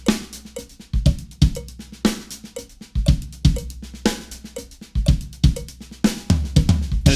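Linear drum groove played on a kit, with kick, hi-hat and snare never struck together, giving a busy, punchy repeating pattern of close, loud hits with no talking.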